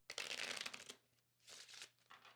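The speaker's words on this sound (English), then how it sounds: "while I shuffle the cards" A deck of playing cards is shuffled up close in quick riffling bursts, one long burst followed by two shorter ones, over a faint low hum.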